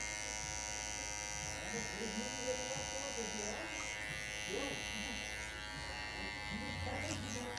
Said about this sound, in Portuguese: só de você raspar aqui, ele já vem meio que graduando junto com a máquina 0.